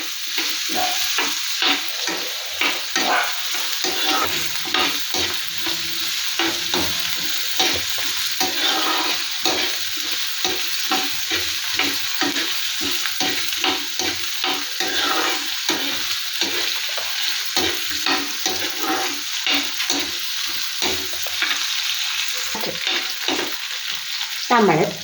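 Onion, green chilli, ginger and garlic fry in hot oil with a steady close sizzle, while repeated scraping stirs of a spoon in the pan keep an uneven rhythm throughout.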